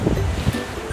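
Surf on the beach at Boracay rolls in with a loud, low, rumbling wash, blended with wind buffeting the microphone, steady and close with no voices heard.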